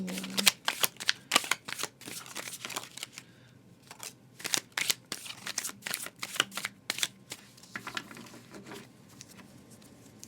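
Tarot cards being shuffled repeatedly, rapid papery riffles and flicks in uneven bursts, close and fairly quiet.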